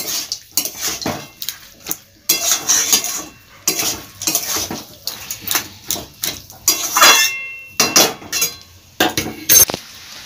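A spoon scrapes and clinks against a metal pan while chopped bottle gourd and spinach are mixed, in irregular bursts of clattering strokes with short pauses between them.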